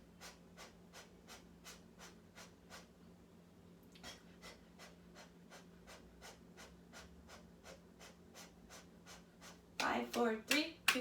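Rhythmic, forceful breathing exercise in a Bikram yoga class, with sharp evenly spaced exhalations repeating about every half second and a brief louder burst near the end over a faint steady background hum.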